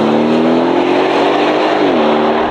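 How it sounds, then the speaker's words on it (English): An Aston Martin Vantage engine screams at high revs on the move, a loud, sustained, strained tone climbing through the range with a brief dip as it shifts, close and unbroken by talk. "The higher this engine spins into the rev range, the bigger the smile on my face"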